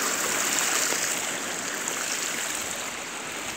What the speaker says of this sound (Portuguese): Deve ser muita água aqui mesmo. Tá forte a água.